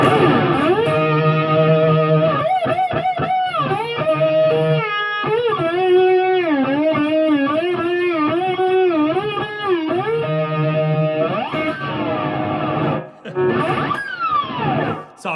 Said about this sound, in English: when you have full distortion, it sounds, that slide down thing sounds really cool.